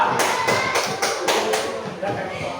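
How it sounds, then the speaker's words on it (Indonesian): Children in a fifth-grade classroom clapping for a group, a run of sharp, rhythmic claps in quick regular succession, close and fairly loud, with a teacher's voice speaking over them. "Tepuk tangan untuk kelompok 2"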